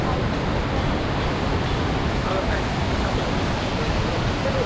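Khlong Lan waterfall in Kamphaeng Phet, Thailand, pours from a cliff at the end of the rainy season, producing a loud, unbroken roar of falling water that fills the whole clip.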